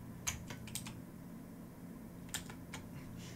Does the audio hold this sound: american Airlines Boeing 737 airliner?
no